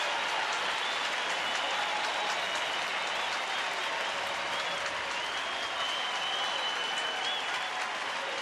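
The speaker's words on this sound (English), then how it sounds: "Applause building." Dense, steady crowd applause fills a baseball stadium at a Texas home game, a broad continuous roar of clapping that holds level throughout with a faint murmur of voices underneath.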